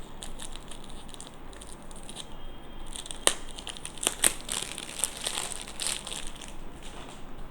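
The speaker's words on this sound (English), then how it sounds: "let's take out the plastic wrapping." Plastic wrapping being pulled off a Dior Homme Intense 2020 perfume box, heard as quiet crinkling with a few sharper crackles and snaps in the second half, close up and without talk.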